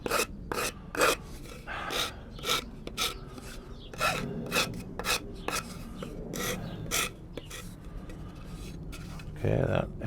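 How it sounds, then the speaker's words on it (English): The fine side of a rasp files a wooden edge in steady back-and-forth strokes, a rhythmic dry scraping repeated about a dozen times at close range, with occasional quiet speech. "I'm using the fine side of the rasp."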